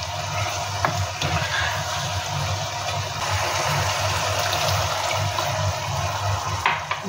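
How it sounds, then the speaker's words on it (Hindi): Water poured into beef mince keema seasoned with salt and turmeric in a cooking pot, a steady rushing pour over a low background hum that runs unbroken for about seven seconds, with no talking. "अच्छी तरह मिक्स करके फिर हम इसमें पानी डाल देंगे"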